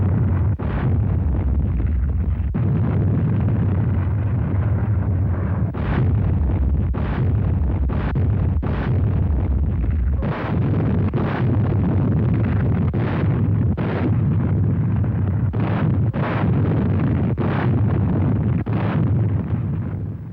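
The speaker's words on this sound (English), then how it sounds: "The bombardment was heavy while it lasted" Heavy naval shelling during the World War II bombardment of a Pacific island, a continuous loud rumbling roar broken by repeated deep booming blasts at irregular intervals, distorted and dense on an old film soundtrack.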